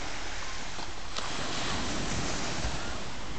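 Steady surf washing onto the beach at Praia Vermelha do Sul in Ubatuba, a continuous close hiss of breaking water mixed with some wind rumble, with no voices.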